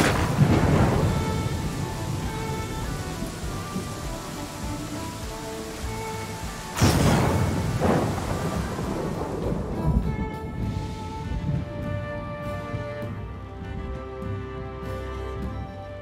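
A thunderstorm in Pathfinder: Kingmaker, with steady rain hissing throughout and two heavy thunder cracks rolling into rumbles, the first at the start and a sharper one midway, while soft musical tones linger toward the end.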